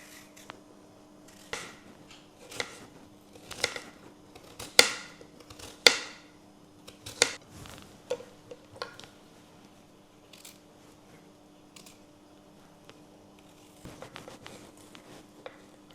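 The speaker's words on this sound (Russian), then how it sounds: "Очищаем огурцы и будем нарезать на кружочки." Cucumbers being peeled and sliced into rounds by hand for a home kitchen meal, a scatter of soft knife taps and scrapes, some sharper cuts standing out, faint and close with quiet gaps.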